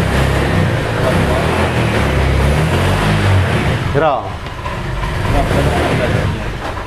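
Motorcycle engine revved between 3000 and 5000 rpm while the charging system is checked, a loud close continuous engine roar that dips briefly midway before building again, with no talk.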